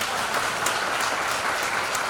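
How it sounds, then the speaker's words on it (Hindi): Audience applause for children during a Hindi Day address by Bihar's education minister, a steady dense clapping that fills the whole short stretch at even, moderate loudness with no voices over it. "बच्चों के लिए ताली।"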